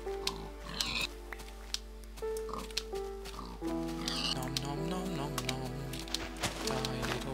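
Pigs oink in the Minecraft video game, short grunts scattered through a stretch of game music, with a person talking over them.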